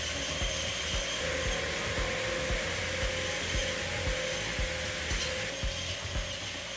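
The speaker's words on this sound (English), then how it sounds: "hydraulic blades to trim canes with surgical precision" Hydraulic pruning machine trimming grape vine canes in a vineyard: a steady mechanical whir with a rough, hissing texture and quick irregular snapping cuts, close and moderately loud, with no voices.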